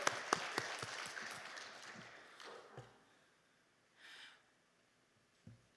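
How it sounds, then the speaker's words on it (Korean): A church congregation gives applause of praise: a burst of clapping at the start that thins and fades within a couple of seconds, followed by quiet with a few faint stray sounds. "우리 하나님 앞에 영광의 박수 올려드립니다"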